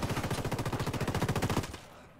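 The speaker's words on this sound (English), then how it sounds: "Opening fire on these fuckers." Rapid automatic gunfire in the tactical shooter Ghost Recon Wildlands, a steady burst of about twenty evenly spaced shots lasting under two seconds, loud and close, then cutting off abruptly.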